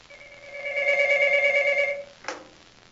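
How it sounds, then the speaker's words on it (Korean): A telephone rings at night in the film Blue: one sustained two-tone electronic ring lasting about two seconds, then a sharp click as the call is picked up. "그리고 그날 한밤중에 줄리는 루시의 전화를 받습니다"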